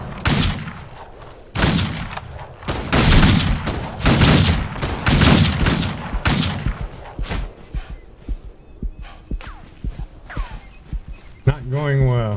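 Pistols fire in the Old West video game Outlaws of the Old West, loud sharp shots cracking in quick clusters, then fading to lighter clicks and footsteps, with a voice talking throughout.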